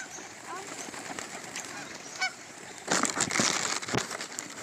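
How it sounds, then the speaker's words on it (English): Geese honking loudly and chaotically at close range, with overlapping calls that swell in the second half, amid outdoor background noise. "These birds are acting wild."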